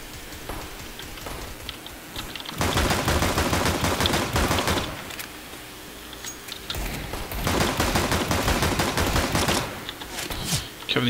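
Rapid bursts of Dual Berettas pistol fire in a tactical shooter match, loud and dense from about 2.6 to 5 seconds and again from 6.7 to 9.5 seconds, with quieter rattling in between.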